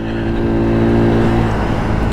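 A Daytona Hobby 50 engine revs steadily and loudly through second, third and fourth gear while leaving a roundabout, its buzzing drone continuous and close with no speech.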